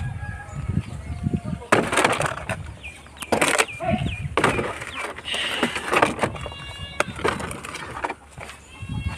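Broiler chickens cluck and squawk at a chicken shop where birds are slaughtered, with irregular close bursts of calls and loud clattering knocks among background talk.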